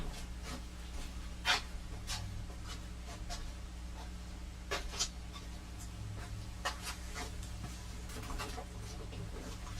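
A marker squeaks and scratches across a surface in an engine bay during shaving and layout work, giving short, faint, irregular strokes over a low steady hum.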